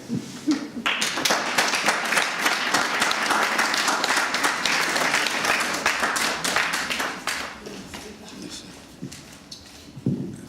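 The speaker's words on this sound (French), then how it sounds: "Veuillez applaudir plus pour monsieur l'abbé Kabwanga" Applause from the audience at a charity evening in Brussels, a loud, sustained burst of many hands clapping that gradually thins out, with some voices underneath.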